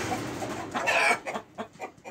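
A rooster clucks in a farmyard coop, a short burst of close, loud throaty clucks followed by several softer, rapid repeated clucks.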